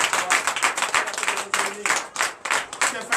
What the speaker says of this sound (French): Donne l'acclamation à nos seigneurs.